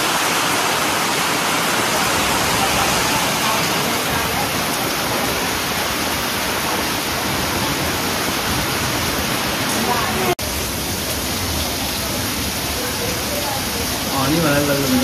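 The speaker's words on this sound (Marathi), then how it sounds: "एवढं पावसाला जोर आलेला आहे" Heavy rain falls during a Diwali-season downpour while travelling toward a village, making a loud, dense, continuous roar that stays steady throughout, with a voice faintly under the noise.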